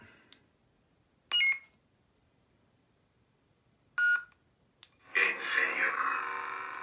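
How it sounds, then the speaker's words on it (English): Two short electronic beeps from a custom lightsaber separated by a quiet pause, followed by a brief click and a sustained buzzing hum. "push and hold till you hear the second beep."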